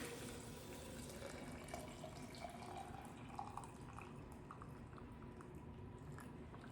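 Hot water at 175 degrees pours over tulsi for herbal tea, a soft continuous trickle and splash into a vessel, faint and close, with no talk.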